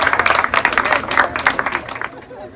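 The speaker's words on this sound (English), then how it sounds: "I wanted to ask for a round of applause for our musicians in the back" Outdoor audience at a park ribbon-cutting ceremony claps for musicians, a brief burst of close, dense applause that tapers off near the end.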